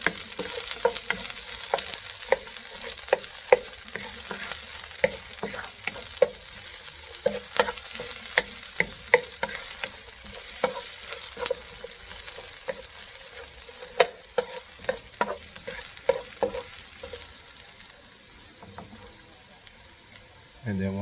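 Garlic frying in a pan for Filipino pork afritada, a steady sizzle with frequent clicks and scrapes of stirring throughout, fairly quiet and close, with no speech over it.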